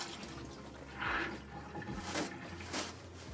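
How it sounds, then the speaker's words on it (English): Water is poured out of a nursing care basin, a few soft splashing pours heard faintly and close by. "And take your water, you're going to dump."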